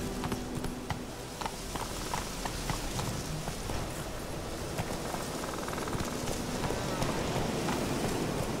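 Roach the horse gallops in The Witcher 3, hooves beating a steady rapid clip-clop that runs the whole way through under a constant wash of ambient noise.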